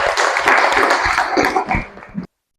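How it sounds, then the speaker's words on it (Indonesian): A classroom claps loudly for a student group after its presentation. The dense, close applause breaks off abruptly after about two seconds. "tepuk tangan untuk kelompok 3"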